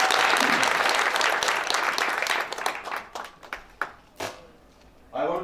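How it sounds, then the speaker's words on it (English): Audience applause at a groundbreaking ceremony for a clothing and textile facility, a dense burst of clapping that thins into scattered, separate claps before fading, with a voice starting at the end. "I would like you to give a round of applause to Ms."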